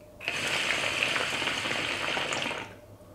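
Hookah water bubbling steadily for close to three seconds as someone draws on the pipe, a dense gurgling hiss that starts and stops abruptly, with no talking.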